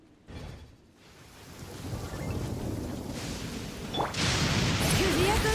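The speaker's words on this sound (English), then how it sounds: "As long as this thunderstorm's going on," A thunderstorm rolls through in the video game Genshin Impact, with a steady rumbling wash of rain and thunder building in intensity, a sharp crack partway through, then a louder sustained roar.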